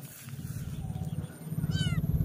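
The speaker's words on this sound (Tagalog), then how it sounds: "So yun ang pusa ayaw talaga eh." A cat meows a few times outdoors on grass, moderately loud against a steady low background hum, with brief rising calls near the end.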